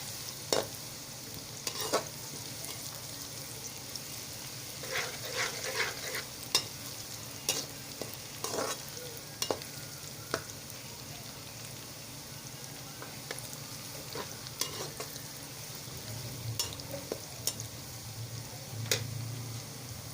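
Dal is stirred and fried in a pan with ginger and garlic, giving a steady low sizzle broken by scattered clicks and scrapes of the spoon against the metal, close by and with no talking.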